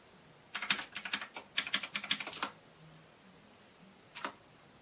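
Someone types a password on a computer keyboard close by, two quick bursts of crisp key clicks, then a single short tap a moment later, with no talking.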